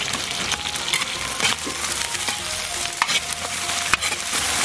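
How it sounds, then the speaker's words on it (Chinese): Scallion, ginger and soybean paste stir-frying in hot rapeseed oil in a wok, a dense continuous sizzle broken by scraping spatula strokes and small clacks, close and loud with no talking. "油热倒入葱姜盐醋，炒出葱香味，来上一大勺黄豆酱"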